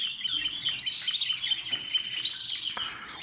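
Gloster Fancy canary hens cheeping and chirping repeatedly in quick, bright bursts, close and fairly loud, with no voices.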